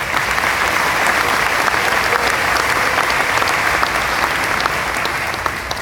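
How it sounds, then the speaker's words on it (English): A packed audience at a Dominion High School ceremony breaks into loud, dense applause that holds strong and steady for several seconds. "I'm going to ask you to hold your applause a little bit longer"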